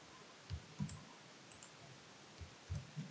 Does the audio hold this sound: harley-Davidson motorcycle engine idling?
no